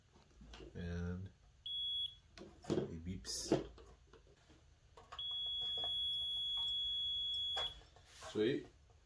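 A multimeter gives long, steady continuity beeps while the heating elements of a space heater are tested, one short tone then a longer sustained one, clear and close, with people talking around them.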